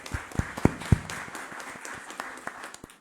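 Audience applause at a formal youth parliament opening session, a few sharp claps standing out early, then a thin scattered patter of clapping that fades over the few seconds.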